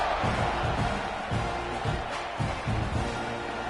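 A football stadium crowd roars after a 12-play scoring drive in a college game, a dense, sustained wash of cheering and shouting heard from a distance with faint rhythmic chanting pulses.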